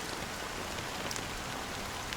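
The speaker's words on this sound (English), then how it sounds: "But it's still raining." Steady rain falling, a dense, even hiss of drops throughout, close and fairly loud, with no voices.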